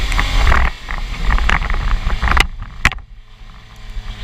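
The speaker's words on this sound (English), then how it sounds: "Right now we're driving the Nissan Pathfinder field car." A Nissan Pathfinder drives in the rain, with rumbling road and engine noise plus scattered knocks and bumps, easing off to a quieter hum in the second half.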